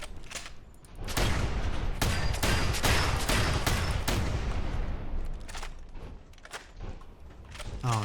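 Shotgun blasts in Fallout 4, a dense run of heavy booming shots fired in quick succession, loud and close, easing off into scattered quieter bangs toward the end.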